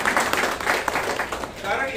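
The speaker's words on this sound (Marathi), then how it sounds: "त्यांच्यासाठी टाळ्या वाजवा" An audience at a farmers' event claps in a brisk, uneven burst, with a voice audible underneath the clapping, which tapers off toward the end.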